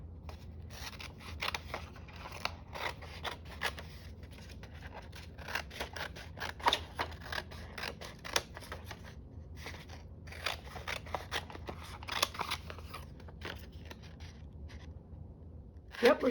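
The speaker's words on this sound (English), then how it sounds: "I think I want to just cut some of this and trim some of it off." Scissors snipping and trimming paper for a junk journal, a long close run of crisp cutting strokes in quick irregular clusters with a few brief pauses, no talk.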